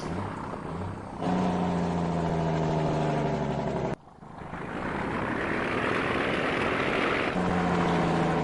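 A pickup truck engine in Farming Simulator 19 drones steadily as the truck drives, with a brief dip before the motor pulls hard again, loud and constant, and no voices.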